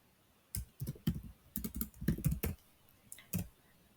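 Keystrokes rattle on a computer keyboard in irregular bursts of close, crisp clicks, with short pauses between runs of typing and no voices.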